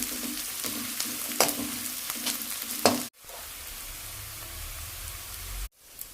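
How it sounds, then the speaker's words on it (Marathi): Chopped onion frying in a pan for a spiced potato filling, a steady sizzle with a few stirring scrapes, briefly cut off twice. "मस्त कांदा लाल होईपर्यंत परतून घेऊ।"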